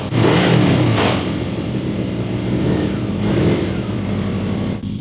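A Yamaha FZX750 motorcycle on its first road test after repair revs loudly, engine rising and falling in strong swells close by with no talking.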